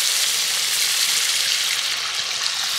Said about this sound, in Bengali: ঠিক এই সময় আমি জল দিয়ে দেব